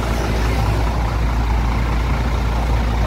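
A Scania Jetbus 3 intercity bus on the Medan–Jakarta route idles with a steady, loud, low diesel rumble that holds unchanged throughout, with no talk over it.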